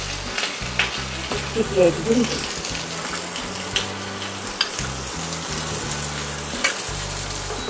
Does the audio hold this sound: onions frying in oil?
yes